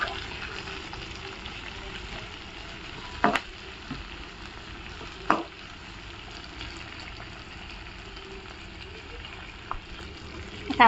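Vertically sliced tomatoes sauté in a pan for a masoor rice dish, giving a steady, moderate sizzle with a few sharp clinks of a spoon against the pan.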